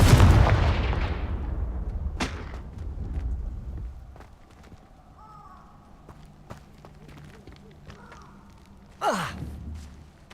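A Confringo explosion spell cast in the game Hogwarts Legacy, a loud booming blast at the start that decays into rumbling debris, followed by scattered clicks and a sharp whooshing burst near the end.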